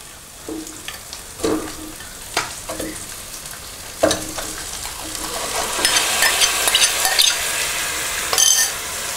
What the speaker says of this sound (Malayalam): ഇനി അതിലേക്ക് നമ്മൾ ഫ്രൈ ചെയ്ത് വെച്ചിരിക്കുന്ന ചിക്കൻ ഇടാം